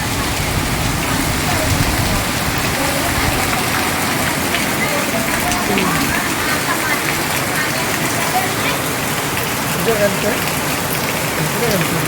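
Steady, heavy rain pours down, a dense continuous hiss of drops hitting surfaces, with faint voices now and then beneath it.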